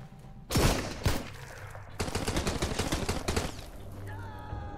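Pistol fire in the survival game Sunkenland: a couple of sharp, loud shots up front, then a dense rapid volley of gunfire lasting a second or two before trailing into quieter game sounds.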